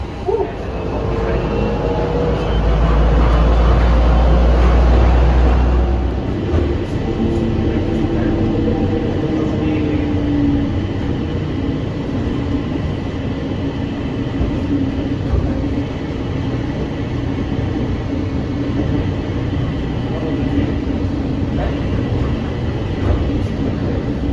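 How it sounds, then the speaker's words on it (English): An airport people mover train at O'Hare hums and rumbles steadily as it pulls away, with a low droning motor and faint rattling throughout. "This train is departing."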